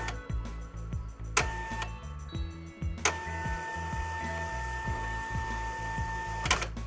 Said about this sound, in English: Press the pause button to calibrate the printer.